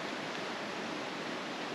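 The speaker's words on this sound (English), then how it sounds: "at the bottom of the campsite there's the river that runs down here" A river runs past the bottom of a campsite as a soft, steady rush of flowing water, an even broadband hiss with no voices or other sounds on top.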